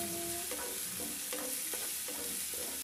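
Chopped garlic sautés in a pan with an even frying hiss, broken by a few rhythmic stirring scrapes, close and with no voices.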